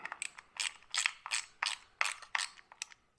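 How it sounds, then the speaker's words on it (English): A hand ratchet snugs up wheel bolts in a star pattern, sounding as about seven quick, close bursts of clicking with short pauses between them and no talking. "So I like to snug that up, snug that up. I snug this up."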